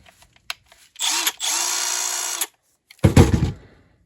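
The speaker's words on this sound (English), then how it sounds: "Today we're going to be doing a review on the Milwaukee Fuel half-inch right angle impact." A Milwaukee Fuel half-inch right angle impact wrench runs in two loud bursts, a longer whirring one of about a second and a half with a short break in it, then a shorter hammering burst, each close and clear.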